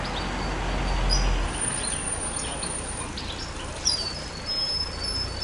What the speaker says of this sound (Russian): Поют птицы. Посмотрите,